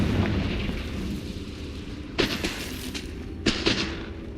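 Two sharp, bright blasts of the Confringo fiery spell in the Hogwarts Legacy video game, the first at mid-clip and the second a little over a second later, each with a brief crackling tail over a low ambient game backdrop.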